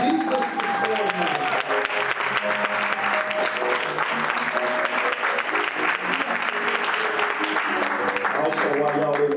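A church congregation claps during a Sunday morning service, dense steady applause filling the room, with music and voices sounding underneath throughout.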